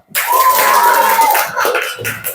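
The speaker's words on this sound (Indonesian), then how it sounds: "Oke, tepuk tangan dulu." A group of people clapping their hands during an online lesson, a short dense burst of claps lasting about two seconds and then fading.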